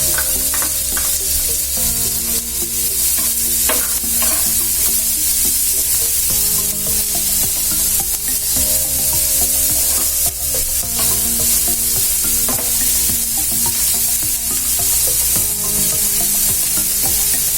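Two medium onions, chopped, sizzle and fry steadily in a pan until golden for a tomato bhurji, with continuous loud frying hiss and occasional stirring scrapes throughout.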